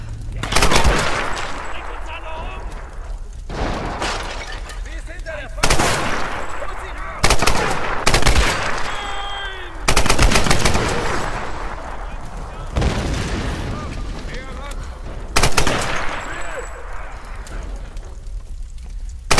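Gunfire in the Tomb Raider video game: repeated loud bursts of shots and blasts crash in over a ragged stretch, separated by short lulls, with background game sounds between them.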